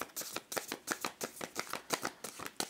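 Large oracle cards shuffled by hand, a quick run of soft rhythmic riffling slaps, close and quiet, with no one speaking.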